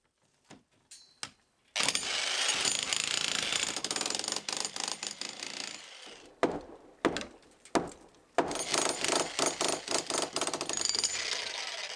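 Loud, sustained mechanical hammering and rattling of a concrete breaker pounding down a house roof, running in long bursts with short pauses between.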